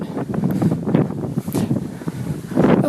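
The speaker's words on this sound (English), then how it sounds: "it's windy up here." Strong wind buffets the microphone on a hilltop during an outdoor walk, making loud low rumbling gusts that rise and fall continuously, with no speech.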